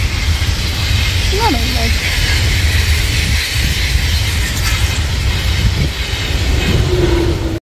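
An InterCity train passes close by with a loud sustained rolling rumble and rail hiss, a brief horn-like tone rising early on, while a person speaks briefly over the noise.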